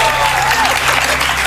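A studio audience on a live morning talk show claps together to dim the lights, a dense, loud, steady burst of applause filling the room from start to finish.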